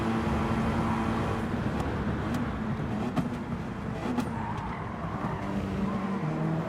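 Race cars, a Mazda and a Scirocco, lapping Mount Panorama in Gran Turismo: steady engine drone with tyre scrub and brief squeals, loud and continuous throughout.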